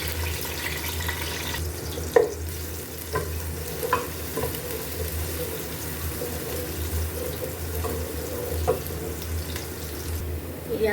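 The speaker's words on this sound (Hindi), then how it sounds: "यहाँ पर ऑयल गर्म हो गया, अब हम इसमें प्याज डाल लेंगे।" Onions frying in hot cooking oil for a mutton kaleji (liver) dish, a steady close sizzle running throughout with a few brief clinks of stirring.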